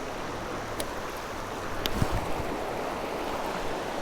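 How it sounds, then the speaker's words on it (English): Swift river water rushing around an angler: a steady, broad wash of flowing water with constant hiss and low churn, near and continuous, with a faint knock partway through. "I'm going to move out of this swift water"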